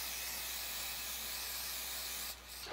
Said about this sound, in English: I'm gonna take some of my adhesive, spray them both down,